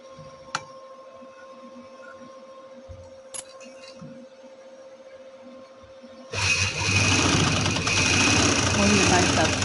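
Sewing machine stitching the side seam of capri trouser fabric, kicking in after a quiet stretch with a few small clicks and handling noises, then whirring steadily and fairly loud to the end.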